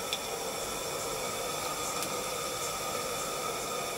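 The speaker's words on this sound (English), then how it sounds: "just open the steam" Live steam escapes from a gauge 1 model locomotive as its steam valve is opened, a steady broadband hiss that holds evenly throughout, close and fairly faint, with no voices.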